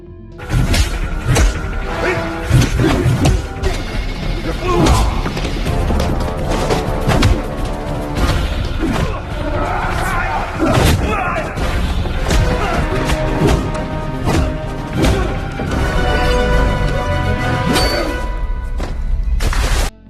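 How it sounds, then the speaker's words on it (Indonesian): Bare-handed fistfight in a mafia action film: repeated punches, thuds and whacking blows land throughout, mixed into loud, dense soundtrack music. "Tommy dan Arman terlibat duel dengan tangan kosong."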